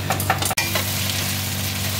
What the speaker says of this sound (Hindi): इधर मसाला बन रहा, चौप मसाला